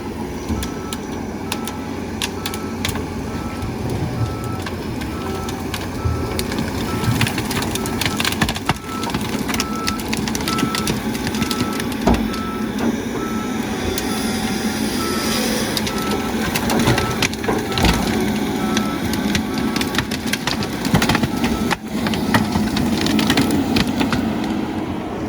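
A John Deere 748 skidder works on soft ground and crushes wood. The loud, continuous machine din is dense with cracking, snapping and crunching bursts throughout, heard close by with no talking.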